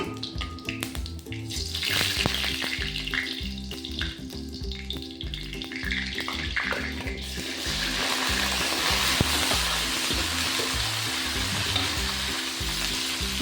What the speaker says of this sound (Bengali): কমিয়ে ঢ্যাঁড়সটাকে হালকাভাবে ভাজবো জল দেবো না